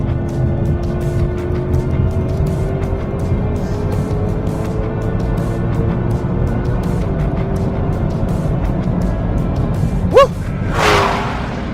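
A muscle car, a Ford Mustang GT500, Chevrolet Camaro ZL1 1LE or Dodge Challenger Redeye Widebody, accelerating hard on a track, its engine drone rising steadily in pitch from inside the cabin, with a brief whoosh near the end.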